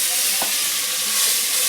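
Tomatoes tossed into a pan of tempered vegetable curry sizzle with a loud, steady hiss, and a faint clink of stirring is heard once.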